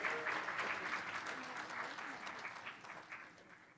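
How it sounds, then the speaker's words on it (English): An audience at a school board of education meeting gives a round of applause for student honorees, a steady, fairly quiet clapping that gradually fades toward the end. "Let's give them another round of applause."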